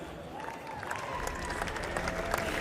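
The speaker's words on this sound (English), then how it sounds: "And a round of applause for the crowd" Crowd applause at an esports FIFA eWorld Cup final, a steady moderate wash of clapping with some cheering, fairly distant and continuous throughout, no clear talk over it.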